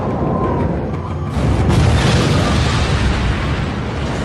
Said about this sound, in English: America is about to drop its second atomic bomb in 3 days.